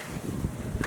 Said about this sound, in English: It's just really, really cold and windy